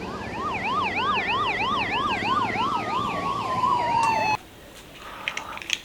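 A police car siren wails in a fast, repeating up-and-down pattern. It sounds fairly near and carries over a road noise background, then cuts off abruptly near the end.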